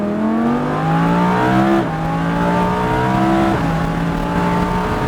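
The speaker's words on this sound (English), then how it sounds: "It's going to slide a little and then throttle up that hill" A Lamborghini Huracán at Pacific Raceways slides through a turn and throttles up a hill, its close, loud engine climbing in pitch with two quick gear changes along the way.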